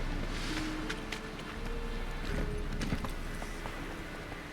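Hooves of Roach, a horse in The Witcher 3 video game, clip-clop in a fast gallop, moderately loud over a continuous ambient background.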